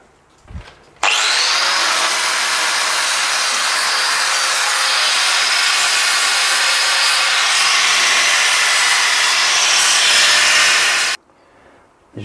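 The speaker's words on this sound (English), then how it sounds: "I don't know if an angle grinder with a nice coarse disc on would clean that up like a sander" Angle grinder fitted with a coarse disc grinding and sanding a piece of wood, a loud steady abrasive whine running about ten seconds without a break, then stopping abruptly.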